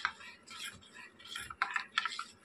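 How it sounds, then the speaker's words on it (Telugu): Stirring a corn flour halwa mixture with grape juice added, a spoon scraping and clinking against the pan in repeated quick strokes, close and fairly quiet. "ఇలా కలుపుతూ ఉండలు కట్టకుండా కొంచెం బాగా కలపాలి."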